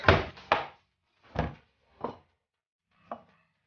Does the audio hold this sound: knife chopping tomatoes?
yes